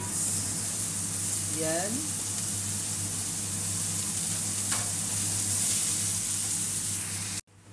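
Onions fry in a pan with salmon, giving a steady, close sizzle that runs throughout while a voice speaks briefly.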